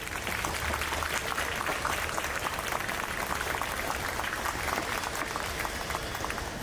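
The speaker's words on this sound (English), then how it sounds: "I think perhaps we can keep the applause going for the young troupe." Audience applause for a young dance troupe at the inaugural event of an exhibition of ancient sculptures, a dense, steady wash of clapping from a large crowd that stays loud and even throughout with no voices.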